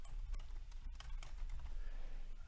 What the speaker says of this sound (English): I'm gonna type no more in the text right here.